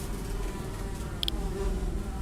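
Flies buzzing in the video game Perceptum, a continuous low droning hum that holds steady at a fairly soft level, with no other sounds over it.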